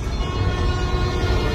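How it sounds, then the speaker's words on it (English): New York subway train passing in Spider-Man: Miles Morales, a steady low rumble with faint rail rattle holding even and close throughout, no voices. "Come on, trust the New York subway."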